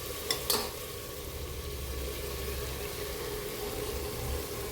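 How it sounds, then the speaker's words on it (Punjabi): Green peas frying with tomatoes in a pan for matar pulao, a steady, even sizzle of stirring, with a couple of sharp utensil knocks right at the start. "ਤੇ ਇਸ ਨੂੰ ਵੀ ਆਪਾਂ 3 ਤੋਂ 4 ਮਿੰਟ ਲਈ ਚੰਗੀ ਤਰ੍ਹਾਂ ਭੁੰਨ ਲਵਾਂਗੇ"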